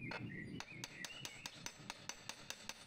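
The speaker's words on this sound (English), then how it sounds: "Tap lightly with a hammer on an iron surface." Light hammer taps on an iron surface, a steady run of about a dozen sharp, evenly spaced metallic clicks, close and fairly quiet.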